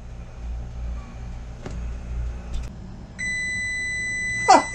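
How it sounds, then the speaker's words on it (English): A toaster oven timer beeps loudly and steadily in a kitchen where crispy potato wedges are cooking, a sustained electronic tone starting partway through and running to the end, with a couple of brief clatters near the close. "Let's turn that annoying timer off."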